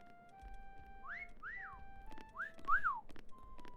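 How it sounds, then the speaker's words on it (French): Cartoonish two-note whistles inside the hide-and-seek game Meccha Chameleon, a few rising-and-falling chirps repeated over a low background bed, fairly quiet and close. "Ils sont super insupportables quand ils sifflent comme ça."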